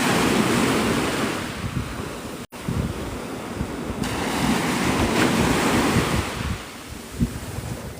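Gulf surf rolls onto Navarre Beach, Florida in a continuous loud wash of waves, with wind buffeting the microphone and a brief dropout partway through.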